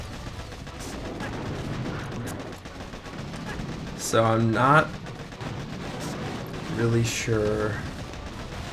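Boom cannons fire in the mobile strategy game Boom Beach, sending repeated sharp, punchy bursts through the fight over constant battle noise, while someone talks over it.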